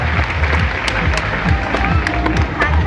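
A crowd at a show at Sriracha Tiger Zoo applauds steadily, a dense wash of clapping that continues throughout at a constant, fairly loud level.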